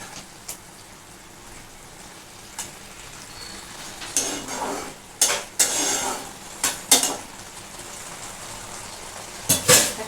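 Barisal-style hilsa curry bubbles in a pan over raised heat, a quiet simmer under bursts of utensil clatter and scraping against the pan, nearby and with no voices.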